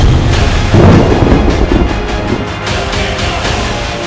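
A loud, continuous rumble of thunder that rolls on for several seconds, heavy and close, and fades a little toward the end.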